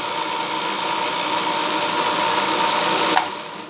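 A single-speed power carving tool running at about 3,600 RPM gives a steady, loud whining hum with a constant tone, close up, then a brief bump and a slight drop as it winds down near the end.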